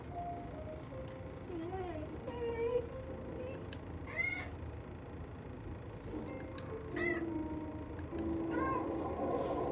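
Cat meows come from a television in a home, several drawn-out cries and mews scattered over about ten seconds at moderate volume, with soft background noise.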